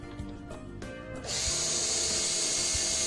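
A power drill whirs briefly, then drives a screw into the middle section of a wooden Vegtrug planter with a loud sustained whine, close by and alone.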